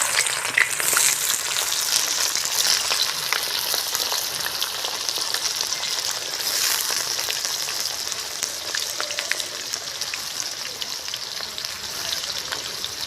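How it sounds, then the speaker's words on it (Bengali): Onions sizzle and fry in hot oil in a pan, a loud continuous crackling hiss with occasional stirring scrapes, close and steady throughout. "আমার তেল গরম হয়ে গেছে এবার পেঁয়াজ"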